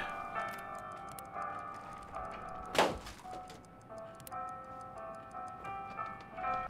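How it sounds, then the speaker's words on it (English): A hatchet chops up furniture in This War of Mine, with one loud sharp thunk standing out against a quiet background of soft ticking and tonal game music. "Marco is going to chop up as much remaining furniture as he can before the day ends"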